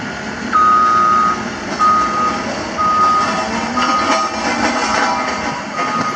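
A toy compactor truck gives out loud, evenly repeated reversing beeps, each a short electronic tone at roughly one-second intervals over rumbling background noise.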